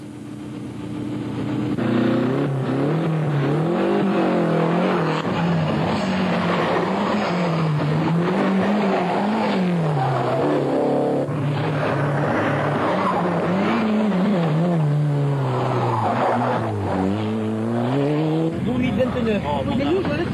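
Rally cars, including Renault R5 Turbo, R21 Turbo and Ford Sierra Cosworth, race at night at the Rallye de France, engines revving and shifting steadily under continuous commentary.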